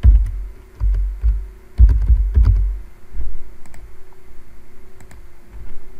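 Weekday names typed on a computer keyboard, close, crisp key clicks coming in short bursts with pauses between, the louder clusters near the start and lighter taps later.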